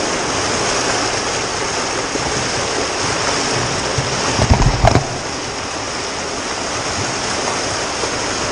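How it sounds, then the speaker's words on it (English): Fast-moving shallow water of Bear Creek at a trail crossing, a loud, steady rushing and splashing close by, with a brief thump of movement midway. "The water's not very deep, but it's very fast moving."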